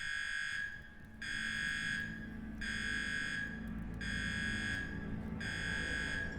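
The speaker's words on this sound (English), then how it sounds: "Did somebody turn off that alarm I accidentally turned on?" An alarm in the video game Underrail sounds in five regular, evenly spaced electronic buzzing blasts, each about a second long with short gaps, steady and moderately loud.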